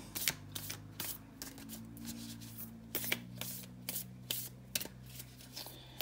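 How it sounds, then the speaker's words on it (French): A tarot card drawn from a deck, with soft close papery shuffling, sliding and flicking taps in irregular bursts, quiet and alone. "je vais fermer les yeux pour tirer la carte"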